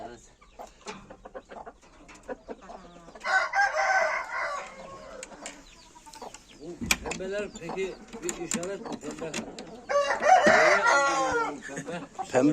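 Chickens clucking and a rooster crowing in bursts, close by, with people talking over and between the calls.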